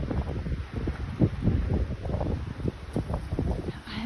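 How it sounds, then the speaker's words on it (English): Strong outdoor wind gusting hard, with continuous rumbling buffeting on the microphone and loose things flapping and rustling nearby, loud and unbroken throughout. "And it's so windy out here."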